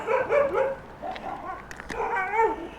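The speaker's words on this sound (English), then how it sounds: "Vicious little puppy dogs." Small dogs bark and yip excitedly in quick bursts, fairly close, with short whiny yelps between barks, heard near a sidewalk during a Hover 1 Alpha scooter ride.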